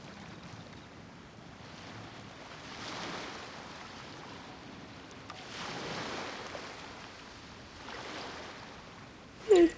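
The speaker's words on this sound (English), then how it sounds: "The waves are as calm as always." Calm ocean waves in the Genshin Impact video game swell and wash in slow, soft surges with a steady breezy hiss, ending in a brief sharp blip.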